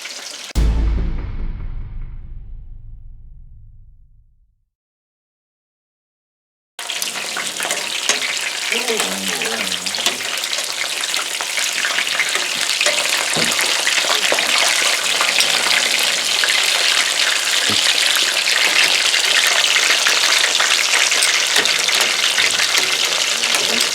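Breaded chicken for chicken parmesan frying in oil in a pan at a cabin, a loud, steady, crackling sizzle that fills the second part after a brief fading tone and a few seconds of silence.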